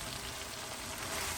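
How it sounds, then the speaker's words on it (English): Aloo matar, a Fiji-style potato and pea curry, fries in a pan with a steady close sizzle, a continuous crackling hiss with no talk over it. "This is frying away nicely."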